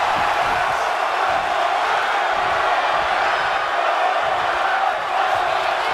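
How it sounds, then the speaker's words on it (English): A dense, steady crowd roar fills a WWE 2K wrestling video game arena during a women's match, a broad continuous wash of cheering that stays loud and even throughout with no talk over it. "You can hear the crowd roar right now"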